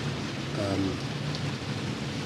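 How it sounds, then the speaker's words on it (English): Steady rain falls at an estuary in the rainy season, a dense, even hiss of drops close by and alone with no voices. "It's been raining here. It's the rainy season here though."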